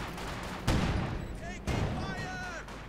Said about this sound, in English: And Pack 40 snipes one of the field gunners.